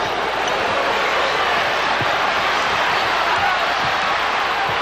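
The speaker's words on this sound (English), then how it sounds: "Once again, Jordan hears it from the crowd" Basketball arena crowd at a 1992 NBA playoff game, Bulls versus Cavaliers in Cleveland, reacting to Michael Jordan: a steady, dense roar of many voices filling the space, loud and continuous throughout, with scattered whoops rising out of the din.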